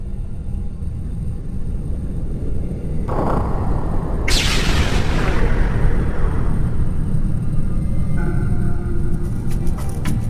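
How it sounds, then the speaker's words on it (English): Explosions at the World Trade Center in news footage: a loud, continuous roaring rumble broken by sudden broadband blasts, one a few seconds in and a bigger one near the middle, with no talking. "Second explosion, another explosion, a fourth explosion at the Trade Center."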